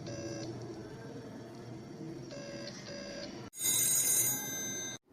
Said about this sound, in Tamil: ஃபோன் சவுண்டு கேக்குதே